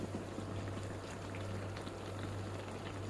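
Potato-stuffed flatbread deep-frying in hot oil, a steady dense bubbling crackle that holds continuously close up with a low hum beneath it, no talking.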